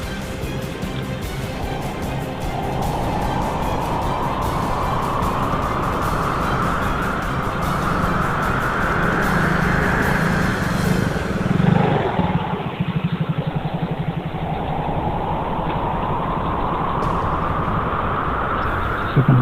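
An animated flying car cruises on autopilot, a steady loud engine whir with a rising, sweeping pitch that dips around midway and climbs again, continuous and close with no talk.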